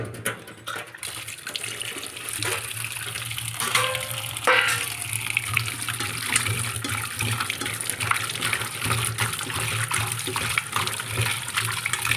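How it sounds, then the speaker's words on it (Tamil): Potato fries for a French fry dish crackle and hiss in hot oil, a dense steady sizzle that goes on without a break, with some brief clatter of handling in the middle and no talking. "நீங்கள் அப்புறமா வந்து தனியாக போட்டு வறுத்துக்கோங்க"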